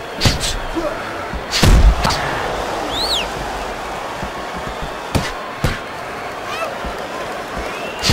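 Gloved punches thudding and slamming in a Fight Night Round 4 boxing match between Roy Jones Jr and James Toney, several sharp impacts spaced irregularly over a crowd murmur and a commentator talking.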